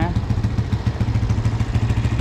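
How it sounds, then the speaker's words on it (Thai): A 150cc Suzuki motorcycle engine fitted with an exhaust silencer plug runs steadily nearby with a fast, even putter and slight rattle, no voices. "นี่เสียงเครื่อง150ซีซีนะครับ"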